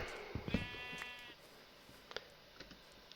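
One clear sheep bleat from the Minecraft video game, near and fairly loud, followed by faint scattered clicks and ambient game sounds, with no talking.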